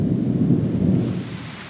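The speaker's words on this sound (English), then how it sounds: "Oh, it's raining." Steady rain pours down in a continuous dense hiss with a low rumbling undertone, loud and close throughout, no voices.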